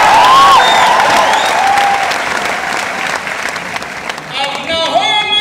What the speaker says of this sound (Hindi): एक बार और अपने मुल्क की सलामती के लिए तालियां बजाएं।